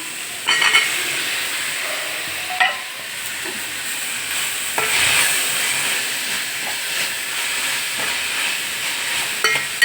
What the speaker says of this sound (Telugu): మునక్కాయలు కూడా బాగా ఫ్రై అవ్వాలి